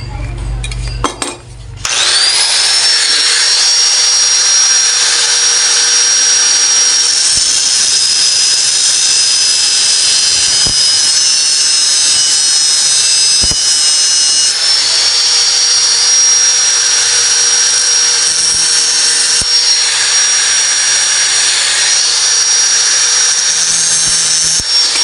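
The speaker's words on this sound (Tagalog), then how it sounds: "So bakin po natin yung lagay ng cable" A power tool grinding off the clutch cable holder on a Honda XRM 110 motorcycle, a loud, sustained high-pitched whine that starts after a brief clank and holds steady, with occasional sharp knocks and scrapes.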